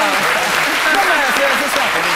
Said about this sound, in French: on applaudit très fort pour Dr. Philo